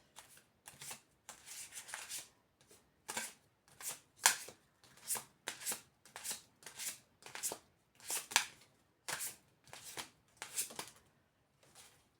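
Tarot cards shuffled by hand in a quiet room, a close run of about two dozen short papery riffling bursts in an irregular rhythm, with no talk.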